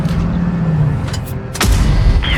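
A single heavy cannon blast from an Object 907 tank in World of Tanks cracks out sharply over a steady low engine rumble, followed by a brief ringing tail.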